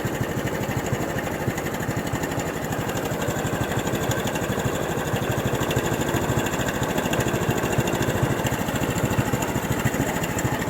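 A Honda motorcycle engine idles steadily with a fast, even mechanical ticking and a possible light rattle, close and continuous without a break.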